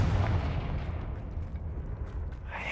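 A deep rumbling blast from the Confringo spell in Hogwarts Legacy, a short low boom that fades quickly into a faint tail.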